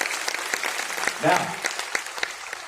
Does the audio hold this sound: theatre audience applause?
yes